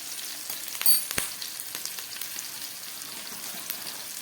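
Ginger-garlic paste and cumin powder sauté in oil for a pomfret fish curry, a soft continuous crackling sizzle with a couple of sharp utensil clicks near the start.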